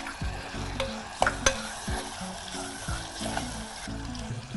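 Chopped tomato fries in a pan with ginger-garlic paste while a spoon stirs it, giving a steady sizzle broken by rhythmic scraping strokes, close and clear, with no talk.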